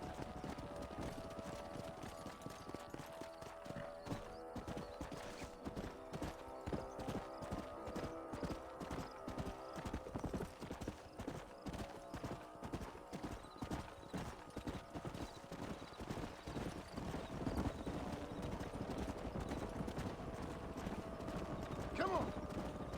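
Horses gallop in the Red Dead Redemption video game, their hooves clip-clopping in a fast, steady rhythm that continues throughout, with an occasional whinny and faint voices underneath.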